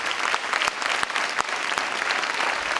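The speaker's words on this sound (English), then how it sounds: "Let's give them a round of applause for the service that they've provided" An audience at a firefighter graduation applauding steadily, dense clapping from many hands sustained throughout without pause.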